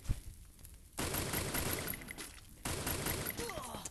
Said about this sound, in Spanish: ahora de repente fallo todos los tiros